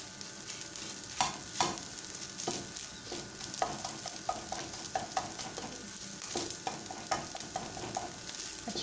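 An egg frying and being broken up with a spatula in a pan for egg fried rice, a steady hot sizzle with repeated scrapes and taps of the utensil, close by, with no speech.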